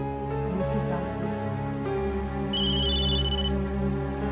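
A telephone rings with a repeating electronic ringtone, steady and fairly close, over a continuous drone of background music.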